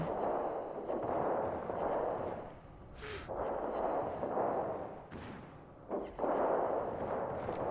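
Secondary guns of the battleship Schlieffen firing in a naval video game: sharp, separate reports at irregular intervals, each followed by a broad rumbling wash, set against steady engine and sea noise.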